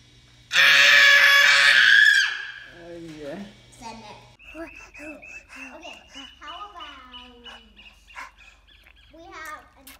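A child's loud, sustained scream bursts out near the start and lasts about two seconds, then gives way to children chattering and playing nearby.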